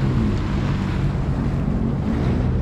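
Jet ski running on Lake Erie, a steady engine drone mixed with wind buffeting and water rush, loud and close throughout.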